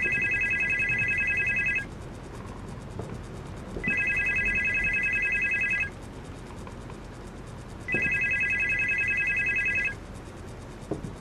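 Old-style telephone ringing in the horror video game Supernormal, three long electronic trills about two seconds each separated by pauses, loud over a low ambient hum.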